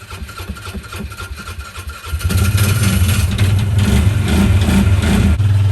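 An old Kawasaki Bayou ATV engine cranking and catching, then settling into a loud, rough, steady idle close to the microphone.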